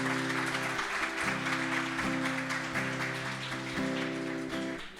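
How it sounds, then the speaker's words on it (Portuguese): A church congregation applauds continuously with a dense patter of clapping, while a sustained organ or keyboard chord shifts underneath. "dá forte aplauso ao Senhor Jesus."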